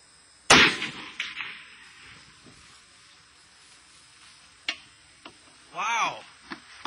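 A rifle fired from a Model 500 rifle rest gives one sharp, loud shot, followed later by a few fainter clicks and handling sounds, with some talk nearby.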